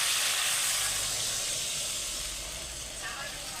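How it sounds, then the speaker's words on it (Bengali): Water poured into a hot pan of katla fish head curry, giving a loud, steady broadband hiss and steam that fades slightly toward the end. "আমি একটু জল দেবো এবার"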